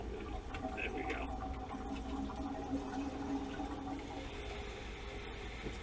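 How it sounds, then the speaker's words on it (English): A water pump runs constantly, pulling water through a copper pipe, heard as a steady low hum and rushing flow with faint clicks throughout. "I think the pump is part of what's going on with this, because it's just constantly on."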